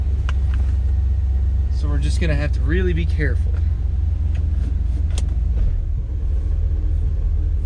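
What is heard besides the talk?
1979 Camaro engine running while driving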